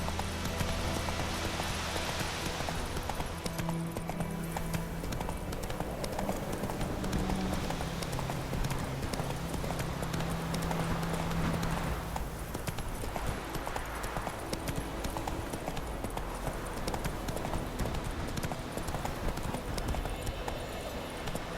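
Hoofbeats of the horse Roach in The Witcher video game, a steady clip-clop rhythm running the whole time beneath a constant wash of game ambience and music.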